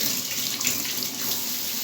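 Water runs steadily from a homemade two-in-one sink tap, a soft and even splashing stream heard close up with no voices.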